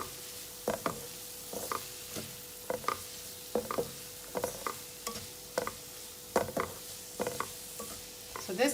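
Egg masala base with coriander powder being stirred in a pan, a spoon scraping in regular short strokes over a soft steady sizzle, close and fairly quiet.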